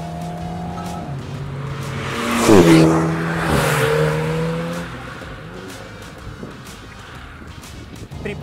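An Alpine A110 in Track mode with a seven-speed dual-clutch gearbox accelerates hard, its engine rising in pitch as tires squeal briefly, then shifts up and pulls away.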